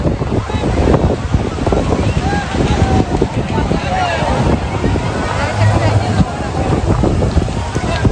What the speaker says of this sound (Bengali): বিরাট ঢেউ আসছে গো। হ্যাঁ, প্রচুর ঢেউ আছে।